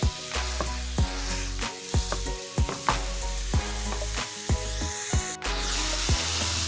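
Ground beef and onion browning in a pan with a continuous sizzle, punctuated by repeated sharp knocks and scrapes of a utensil breaking up the meat, roughly one per second, close and loud, no talking.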